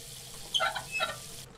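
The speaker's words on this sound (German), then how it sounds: "Vielleicht kann ich ihn mit Wasser säubern." Faucet water runs briefly as an old key is washed in a renovation video game, a short faint trickle with a couple of light splashes.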